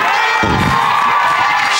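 A church congregation erupts in loud acclamation, a dense roar of massed voices cheering and shouting together, close and sustained for the whole moment.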